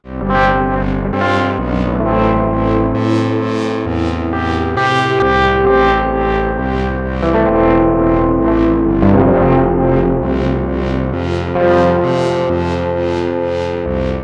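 An electric guitar run through a Moog Grandmother synth pulses in a steady arpeggiator-sequenced tremolo rhythm, its chords chopped into even, swelling bursts, loud and continuous with no talking.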